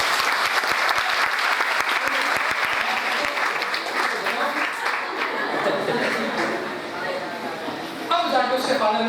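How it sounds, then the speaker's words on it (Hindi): An audience claps loudly at a motivational workshop at a Pune college group, dense sustained applause mixed with chatter and a little laughter, fading slightly before a fresh swell of clapping near the end. "तालियां बजनी चाहिए।"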